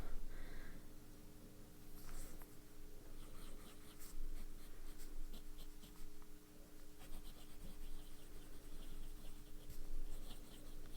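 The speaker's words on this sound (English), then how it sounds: "the nib writes nicely" Steel nib of a Lamy Aion Dark Green fountain pen scratching softly across paper, a faint continuous scratch with light stroke bursts over a steady low background hum.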